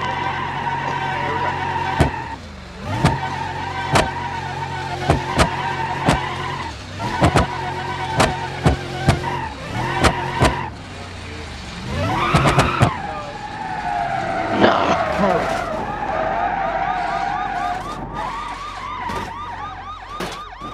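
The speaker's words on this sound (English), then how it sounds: "So we're going to hit the spike strips." In BeamNG.Drive, a simulated car hits spike strips and skids, with sirens wailing throughout, repeated sharp thumps and tire screeches under ongoing engine noise while a voice talks.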